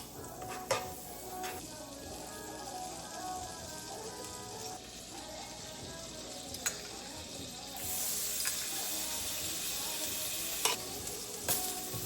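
Seasoned lamb chops sizzle steadily in a hot skillet, a continuous crackling hiss with occasional sharper pops and a brief louder burst of spitting fat partway through, no talking.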